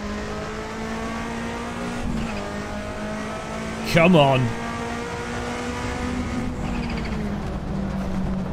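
Race car engine in the Assetto Corsa sim racing game drones steadily with a quick burst of revving downshift blips around the middle, while a voice talks briefly over it.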